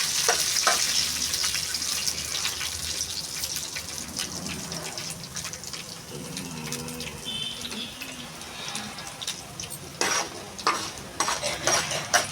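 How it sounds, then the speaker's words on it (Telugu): Chana dal and urad dal frying in hot oil in a pan, a steady close sizzle with intermittent stirring and scraping clatter, no voices. "ముందుగా ఒక ప్యాన్ తీసుకుని ఆయిల్ వేసి హీట్ అయిన తర్వాత కొంచెం పచ్చిశనగపప్పు, కొంచెం మినపప్పు వేసుకుని వాటిని బాగా ఫ్రై చేసుకోవాలి"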